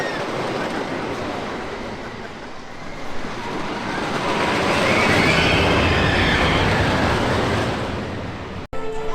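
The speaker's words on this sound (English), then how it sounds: "Troy's just about to come through the station. I thought I'd record this just because of the sheer noise that it makes." Troy, a wooden roller coaster at Toverland, sends its train roaring through the station: a loud, sustained rumble and rattle that swells toward the middle and then eases off, with no talking.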